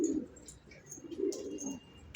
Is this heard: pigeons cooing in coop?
yes